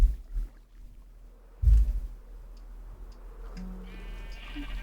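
A sheep in the Minecraft video game gives a short bleat, followed by a second, louder burst of bleating and then a faint trailing tone, all near and loud against quiet background.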